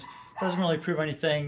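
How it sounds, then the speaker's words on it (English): Domestic dogs bark and yip in the background of an indoor room while someone speaks, their short yelps overlapping his voice in a few uneven bursts. "You can hear my dogs barking in the background."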